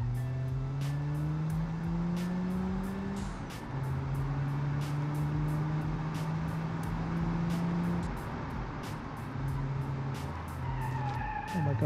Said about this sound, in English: Oh my god, this thing wants to drift.